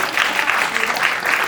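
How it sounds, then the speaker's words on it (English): Steady audience applause at a stand-up comedy show, a full even wash of clapping that holds at moderate loudness throughout. "Applause is welcome at this time."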